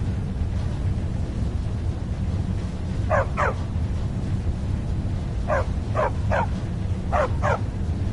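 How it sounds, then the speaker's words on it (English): A dog in Skyrim barks in short pairs and bursts, seven barks in all, set against a constant loud low rumble of wind or ambience. "Stupid dog."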